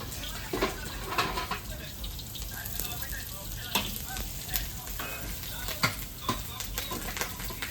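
Fried paneer cooks in a pan with a steady, moderately loud sizzle, punctuated by irregular scraping and clinking stirs throughout, with no clear talking.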